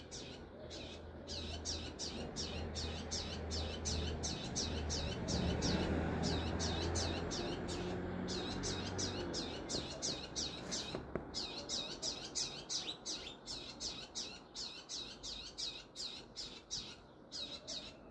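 Small bird, a mother bird, chirping in a garden with rapid, repeated high tweets in steady runs that carry through most of the stretch, moderately close over a soft background hum.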